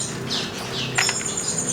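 Canaries at a breeder's aviary in Jakarta give a few short, bright chirps and tweets, fairly close, over a low steady room noise.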